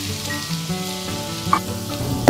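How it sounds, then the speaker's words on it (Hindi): Onion paste frying in a pan for methi matar malai and stirred as it cooks: a close, steady sizzle with soft scraping, and a tonal hum running underneath. "तो प्याज को चलाते हुए मैंने हल्का गुलाबी होने तक भून लिया है।"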